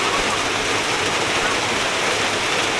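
Heavy rain pours steadily in a town street, a dense, even hiss of falling water that fills the air nearby without a break or any voices.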